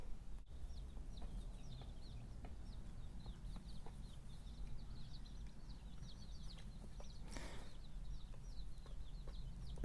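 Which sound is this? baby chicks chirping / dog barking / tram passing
baby chicks chirping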